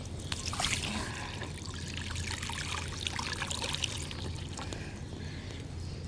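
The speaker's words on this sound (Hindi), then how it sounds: "पानी डालती हूँ।" Water pours out in a continuous close trickle and splash, fairly soft and steady for several seconds with no voices over it.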